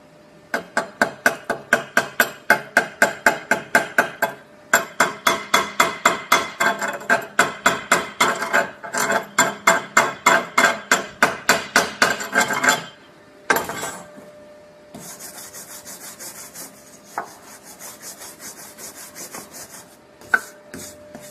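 A hammer chips slag off a 7018 electrode weld in a long run of rapid, close, sharp metallic taps with a brief pause midway. Scraping and softer rustling follow.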